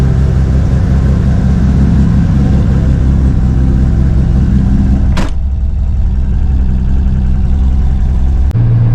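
A car engine droning steadily while driving on the road, loud and close with a low rumbling hum throughout and two brief sharp bursts of noise near the middle and end.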